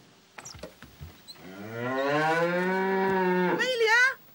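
A cow moos at night in the country, one long, loud, drawn-out low call close by, preceded by a few faint knocks and shuffles.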